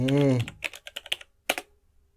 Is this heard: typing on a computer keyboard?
yes